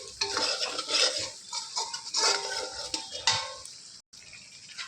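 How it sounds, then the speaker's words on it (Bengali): A utensil scrapes and stirs fried spice paste with green chillies in a pan, close, busy scraping strokes and sizzling with a brief pause near the end. "কাঁচা লঙ্কা দিয়ে আমি একটু নেড়ে চেড়ে নেব"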